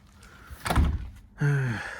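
A van door on an LDV Convoy is shut with a solid thunk, followed shortly by a sliding, whirring mechanical sound, close and fairly loud with no talking.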